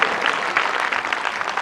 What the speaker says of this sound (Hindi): सब लोग ताली बजाओ, ताली बजाइए सब।